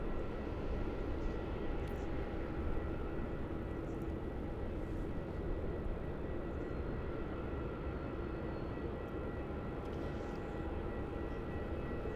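A Boeing 787 comes in to land on runway 16 at Melbourne Airport, a faint, far-off, steady engine roar that holds evenly throughout without voices.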